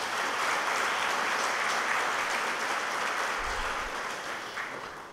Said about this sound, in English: Please give a big round of applause to Mr. Krishnan.